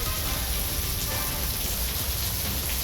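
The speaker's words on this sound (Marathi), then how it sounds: "या ठिकाणची ही भयानक दृश्य तुम्ही पाहू शकता पावसानं अक्षरशः थैमान घातलेला आहे" Heavy unseasonal rain pours steadily, a dense, continuous hiss and patter at even loudness throughout, with no voices.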